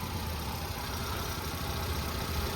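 A 2008 Hyundai Santro Xing GLS with a 1086 cc petrol engine idles smoothly, giving a steady, even hum close by with no change in pitch.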